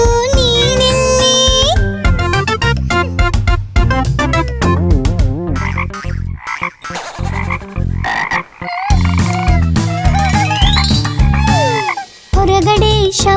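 Loud, repeated frog croaks punctuate a lively children's cartoon song in Kannada, sounding over continuous bright music and sung melody for the whole stretch.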